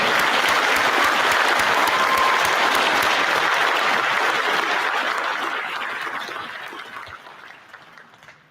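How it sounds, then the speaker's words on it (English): A crowd at a sheriff's office promotion and awards ceremony applauds loudly with dense, sustained clapping that gradually tapers off and fades out toward the end. "Let's give a round of applause to everyone that's being recognized for promotion today"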